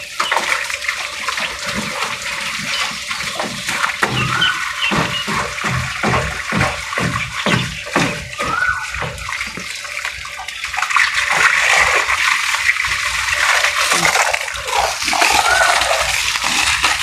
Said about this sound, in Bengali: তারপরে এই যে গাছপালাতে পানি দিতে হবে।